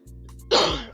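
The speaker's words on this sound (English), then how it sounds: "Got the cough going on, guys." A man lets out a single sudden, harsh cough, close and loud, after a faint steady hum.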